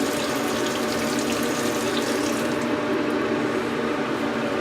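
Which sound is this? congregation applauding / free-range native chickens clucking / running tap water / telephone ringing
running tap water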